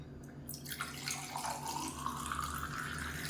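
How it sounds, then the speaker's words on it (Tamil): Amla (Indian gooseberry) buttermilk is poured into a glass, a soft continuous liquid stream whose tone rises as the glass fills. The sound is faint and close, with no speech. "இப்போ எதோ ஒரு கிளாஸில் ஊற்றிக்கலாம்"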